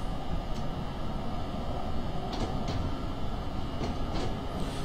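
NJ Transit ALP45-DP train in Train Simulator 2016 running under the Northeast Corridor, a steady loud rumble and rolling roar with a few faint high clanks, continuous and close, with no voices.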